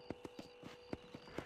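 Evenly spaced hoofbeats from a horse walking at a steady pace in the Western game Red Dead Redemption, soft and close, about nine distinct clops in quick succession with no whinny audible.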